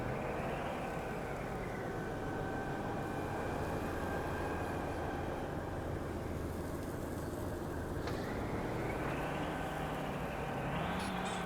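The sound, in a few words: truck engine and squeaking truck bed in video game Apocalypse Truck Simulator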